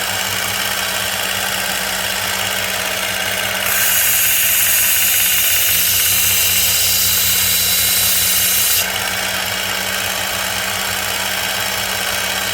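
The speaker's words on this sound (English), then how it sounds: "each belt is going to refine those scratches down finer and finer and finer until we're left with a really polished, refined edge" A knife edge is being sharpened on a belt grinder, a loud continuous motor whine with a steady grinding hiss that grows brighter and harsher for several seconds mid-clip before easing back.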